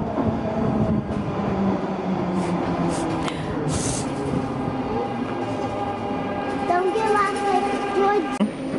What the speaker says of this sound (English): Because the train is going to go there.